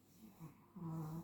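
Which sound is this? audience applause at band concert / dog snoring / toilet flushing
dog snoring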